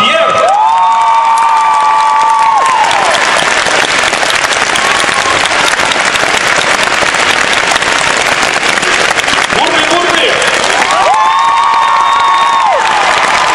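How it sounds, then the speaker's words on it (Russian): An arena crowd gives loud, sustained applause and cheering to welcome figure skater Stéphane Lambiel at Plushenko's anniversary ice show, dense clapping filling the whole stretch while a voice over a microphone carries above it at the start and near the end. "под ваши бурные аплодисменты я приглашаю потрясающего фигуриста"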